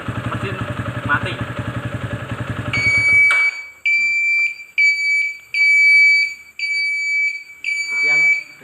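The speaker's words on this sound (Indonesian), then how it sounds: "Dan ini langsung saja standar saya aktifkan, maka alarm seharusnya berbunyi dan mesin mati." A motorcycle kickstand alarm fitted with an engine cut-off sounds as the side stand is lowered: a shrill electronic beeping in repeated pulses follows the engine's rumble, which stops abruptly partway through.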